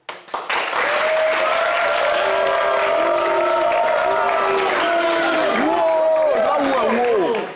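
A crowd at a French dance-style contest applauds and cheers loudly and steadily for several seconds, while melodic tones and whoops rise through the din before it fades at the end.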